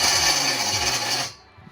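A Makita power drill runs close by in a loud, steady high-pitched whir for just over a second, then cuts off abruptly and leaves quiet background noise.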